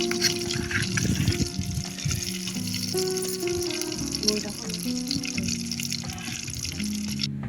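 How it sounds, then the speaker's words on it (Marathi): Ghee poured into a pot over a wood-fired clay stove, a soft continuous trickling and sizzling hiss with faint tonal background sounds and someone speaking over it. "आता आपण तूप टाकणार आहोत."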